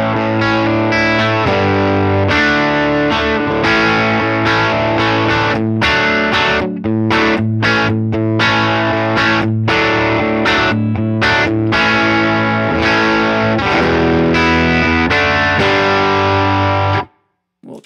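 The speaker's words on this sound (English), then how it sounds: "So here's the distorted sound." A distorted electric guitar runs through an HX Stomp dual-amp preset, with the deluxe amp model's overdrive and treble raised. Thick chords ring loud and sustained, with brief rhythmic breaks, before cutting off near the end.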